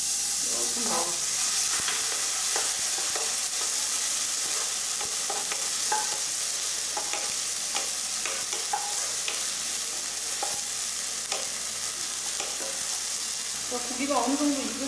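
Ginger and minced meat stir-frying in a wok, a loud continuous hiss and crackle with frequent spatula clacks and scrapes, busy and close throughout, with faint speech in the background.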